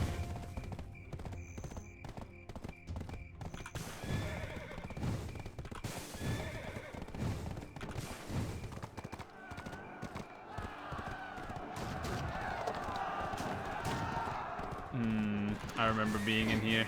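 A horse in the Black Desert Online video game neighs and whinnies while its hooves clip-clop at a run, mixed with game effects and music and a player talking over it.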